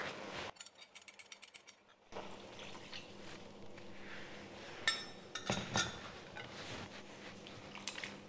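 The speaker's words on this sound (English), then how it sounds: "I'm going to add in my sauce now, so I'm just going to stir the sauce." Sauce is stirred into chicken and broccoli in a pan, giving quiet sizzling with scraping and clinks of a utensil against the pan, faint and close, with no talking.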